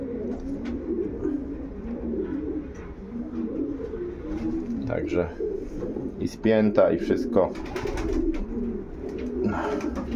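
Show pigeons coo in low, throaty rolls that continue throughout, with a louder flurry of flapping or scuffling partway through, while a person talks over them nearby.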